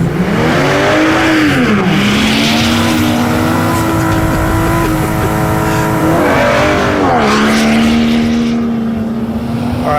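A 2016 Volvo V60 Polestar wagon accelerates hard from 0 to 60 in snow, its engine loud and close, climbing in pitch through rising revs with shift breaks where the note drops before climbing again.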